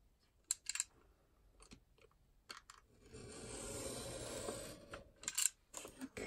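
Scissors cutting paper for a craft journal envelope, with sharp clipped snips in short bursts, then a longer soft rustling stretch and more quick snips, close and quiet.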